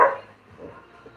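A single short dog bark at the very start, fairly close, then quiet low background.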